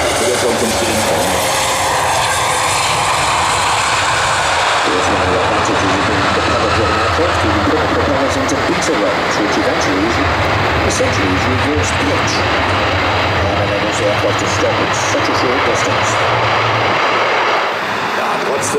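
Airbus A400M Atlas military transport on its landing roll at an air show, a loud sustained propeller and engine roar that stays steady, then fades near the end as the aircraft slows.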